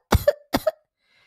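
A reader's voice imitates a harsh smoker's cough, two sharp, close coughing bursts in quick succession followed by silence.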